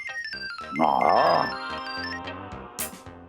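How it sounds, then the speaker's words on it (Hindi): A mobile phone rings indoors with a bright electronic melodic ringtone, loud and close, playing a short tune alone for a few seconds. "काका आपकी बेल बज रही है, फोन उठाइए ना"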